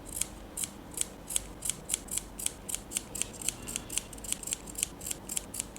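Scissors snipping fabric strips for a headband, a fast steady series of about twenty sharp, close, crisp cuts, evenly spaced with no talk.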